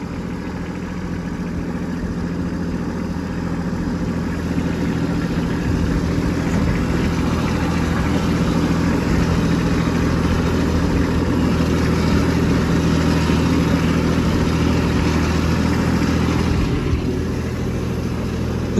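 A Kubota B2601 tractor fitted with tire chains drives slowly through deep, heavy snow and slush, its engine droning loudly and steadily at close range with a constant low rumble throughout and no talking.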